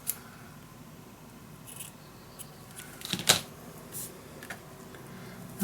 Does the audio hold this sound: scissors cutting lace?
yes